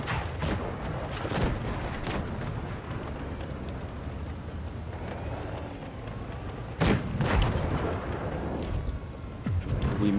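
Deep booming tank cannon shots from an IS-6 in World of Tanks Blitz cut through a constant rumbling engine and battle backdrop, with a few heavier blasts standing out and no talk.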